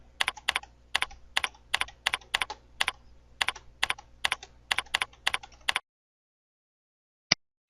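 Rapid keystrokes on a computer keyboard as search keywords are typed, a close, crisp burst of about a dozen and a half clicks over six seconds, then silence broken by one last isolated tap.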